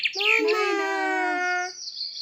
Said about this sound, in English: Maina.